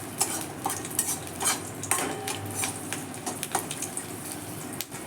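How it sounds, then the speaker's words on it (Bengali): Whole garlic cloves stirred lightly in hot oil, a steady close sizzle with repeated soft spoon scrapes and taps against the pan running throughout. "এটা হালকা করে তেলে নেড়ে নেব"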